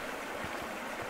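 A stream runs beneath a metal grating footbridge, a steady, close, broadband rush of flowing water with no voices.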